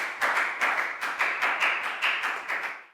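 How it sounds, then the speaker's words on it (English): A small group of schoolchildren in a classroom claps in a steady, rhythmic beat, about a dozen crisp, evenly spaced claps for a classmate, close and fairly loud. "High five and a big round of applause for let go"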